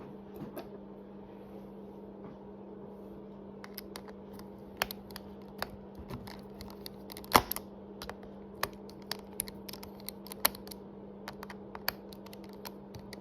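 Small screws being backed out of the plate holding the ribbon connector on a Dell laptop screen, heard as sparse, sharp clicks and ticks scattered over a steady low hum.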